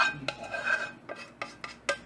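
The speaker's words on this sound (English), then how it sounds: "I'm just going to go ahead and pour my cheese sauce directly onto the cauliflower" Cheese sauce poured from a pot onto cauliflower in a bowl, heard as a series of soft scraping and clinking metal-on-cookware sounds, close and fairly quiet, with no talking.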